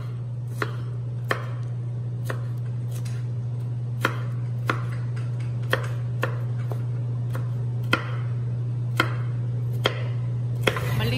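A knife finely chops ginger and garlic on a board: sharp, evenly spaced chops, roughly one per second, close and clear over a steady low hum, with no talk.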